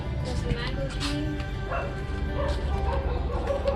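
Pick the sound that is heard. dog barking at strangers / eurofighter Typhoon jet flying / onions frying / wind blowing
dog barking at strangers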